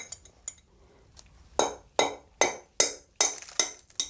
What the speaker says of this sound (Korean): 그래서 이 긴 못을 여기다 이렇게 대고 망치로 두들기면 다이 속이가 깨지더라고요.